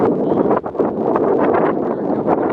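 Steady wind buffeting a microphone outdoors, a loud continuous roar with gusty swells and no speech.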